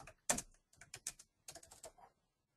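Keystrokes on a computer keyboard in short bursts of clicks with brief pauses between them, close and fairly quiet, with no one talking.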